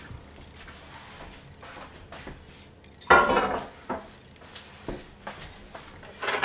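Metal lid lifted off a pot of corned beef and cabbage with a loud clank, then several lighter clinks and taps of cookware in a quiet kitchen.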